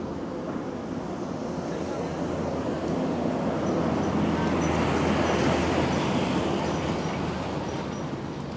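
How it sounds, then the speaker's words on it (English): A train passes in Can Pastilla, Mallorca, a broad continuous rumble swelling and easing across the clip, heard from a distance with faint voices in the background. "There's the train on its way back up."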